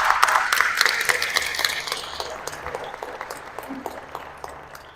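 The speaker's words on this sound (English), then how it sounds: "Would you give them a round of applause?" An audience at a crisis intervention event gives a round of applause, starting fairly strong with clear individual claps, then gradually thinning and fading toward the end.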